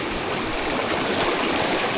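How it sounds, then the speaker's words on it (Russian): A fast, swollen river running like a mountain stream after days of rain in the taiga, a steady, dense rushing roar of water that fills the whole moment without a break. "Друзья, смотрите, какая река у нас, а. Прям как настоящая горная."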